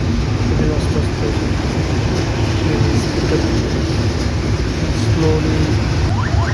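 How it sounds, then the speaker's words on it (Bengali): Train crossing the roughly 4 km Jamuna rail bridge in Bangladesh, heard from inside a carriage as a loud, steady rumble and rattle with no break. "ফার্স্ট টাইম ট্রেনে এত লং জার্নি লাগতেছে।"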